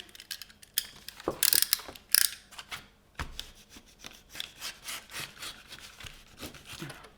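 A utility knife cuts through recycled scrapbook material in close, repeated scraping strokes, a quiet rhythmic rasp with a few louder crackling bursts early on.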